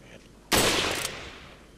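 A single sniper rifle shot in Resident Evil 4, a sudden loud crack right after a quiet stretch, followed by a long decaying echo.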